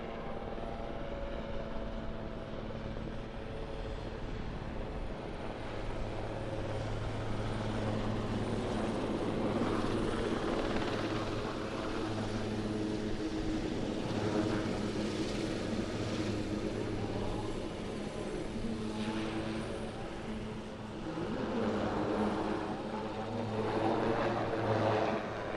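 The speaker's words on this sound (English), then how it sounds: "shortly we'll see the helicopter coming into the hover, and it will then perform a spiral ascent" A Swiss Air Force Super Puma helicopter's steady rotor and engine drone hangs overhead at an airshow, swelling slightly as it holds a hover and then climbs in a spiral ascent, loud and continuous throughout.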